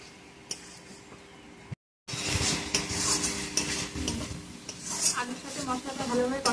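Spices and fried potatoes are stir-fried for a rui fish kabab. A utensil scrapes and clinks against the pan again and again while a soft sizzle runs underneath, close and fairly quiet, after a brief dropout near the start.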